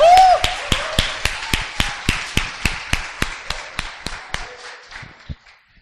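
A church congregation claps in unison, about seventeen sharp, evenly spaced claps at a steady brisk rhythm, loud at first and thinning out before stopping.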